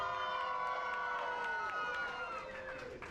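Audience at the Weeki Wachee springs mermaid show in Florida cheers and shouts in a steady, loud crowd roar, with children's high voices and scattered claps running through the whole stretch.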